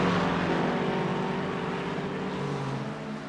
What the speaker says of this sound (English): hearing these engines, wow